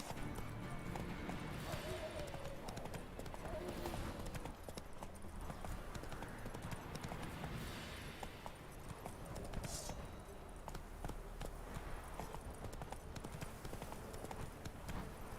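Horse hooves in The Witcher 3 drum in a constant galloping rhythm, quiet and steady throughout, blended with game ambience and occasional faint harness and wind noise.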